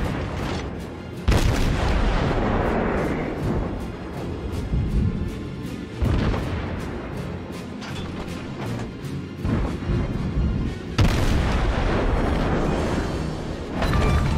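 Heavy naval gunfire and explosions in the World of Warships video game, loud deep booms arriving in several separate salvos over a continuous rumbling battle background.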